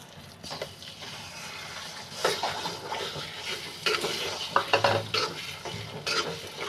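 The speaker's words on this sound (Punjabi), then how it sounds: "ਇਹਨੂੰ ਤੁਸੀਂ ਬਿਲਕੁਲ ਮੀਡੀਅਮ ਫਲੇਮ ਤੇ ਭੁੰਨਣਾ ਹੈ ਤੇ ਲਗਾਤਾਰ ਚਲਾਉਂਦੇ ਰਹਿਣਾ ਹੈ" Moong dal paste roasting in ghee in a pan over a medium flame for halwa, with a steady soft sizzle and repeated scraping stirs of a spoon against the pan, close and continuous with no talking.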